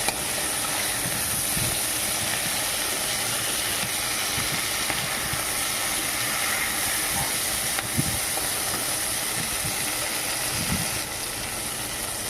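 Vegetables for a fish-head Malabar spinach chorchori fry in a pan, giving a steady, fairly loud hiss and sizzle that runs unbroken throughout with a few soft knocks. Nobody speaks over it.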